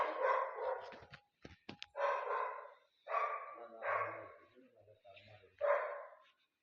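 A dog barks from inside an old individual house, short sharp barks heard faintly and partly masked by someone talking nearby.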